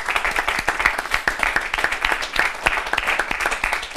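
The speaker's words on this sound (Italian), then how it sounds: "a cui facciamo un applauso" A studio audience at a televised sports event gives sports director Mauro Bissoli a brief round of sharp, distinct claps, a small group clapping unevenly and fairly close.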